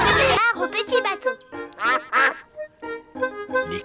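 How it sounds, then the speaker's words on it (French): Cartoon ducks quack at a pond in a Peppa Pig episode, short bright calls repeating in quick bursts across the clip, mixed with a voice and other cartoon speech. "Les canards barbotent dans la mare."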